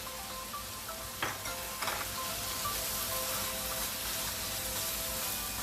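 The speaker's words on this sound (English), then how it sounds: "I have 5 cloves of garlic and a knob of ginger that I grated. I'm going to add that in now." Five cloves' worth of grated garlic plus a knob of grated ginger hitting a hot pan for Hakka noodles, a steady soft sizzle with a couple of brief clatters near the start.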